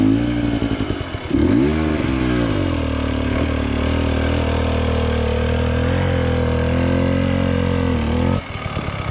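An enduro motorcycle in a hill-climb event works up a steep slope, its engine roaring loud and close with a steady revving drone. It briefly dips and rises partway through, then drops off near the end.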